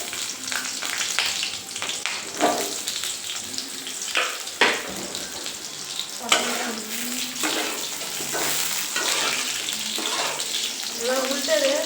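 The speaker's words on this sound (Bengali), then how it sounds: "তো এখন ভাজছে হচ্ছে পটল।" Pointed gourd fries in a small wok, a steady sizzle broken by repeated stirring and clattering bursts, with a voice speaking at times in the background.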